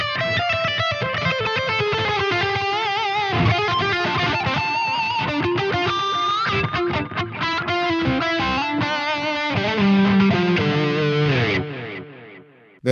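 Distorted lead electric guitar tone from a Neural DSP Quad Cortex preset, played as a fast melodic run with sustained notes, loud and continuous throughout with a held low chord near the end.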